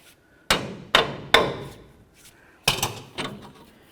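A hammer strikes the top of a tie rod on the front end of a 2004-08 Ford F-150, giving five sharp metallic blows in two groups, close and fairly loud, with short ringing decay and no talk.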